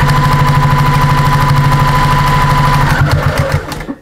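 A sewing machine runs steadily, stitching up the center of a fabric sewing caddy with a rapid, even mechanical chatter that slows and stops near the end.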